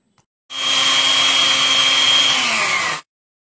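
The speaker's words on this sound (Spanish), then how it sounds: "los voy a colocar aquí dentro de mi licuadora. Voy a agregar el ajo y le voy a colocar sal, lo voy a moler" A blender grinds boiled tomatoes, garlic and salt into salsa, a loud steady whirring burst lasting about two and a half seconds before shutting off, with no speech.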